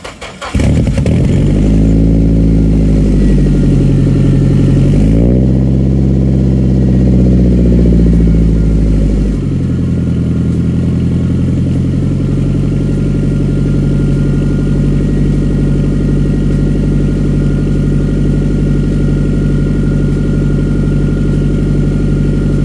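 A Datsun pickup truck engine cranks and catches, revs up for a few seconds, then drops into a loud, steady, slightly clattery idle that runs on alone with no talk.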